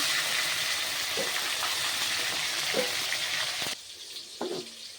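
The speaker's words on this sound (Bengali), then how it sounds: "এবার এই যে টমেটো কুচি তেলের মধ্যে আমি টমেটো কুচি দিয়ে দিলাম" Chopped tomato hits hot oil tempered with torn bay leaves for a pointed gourd dish, giving a steady close sizzle that drops suddenly toward the end, with a few soft clinks after.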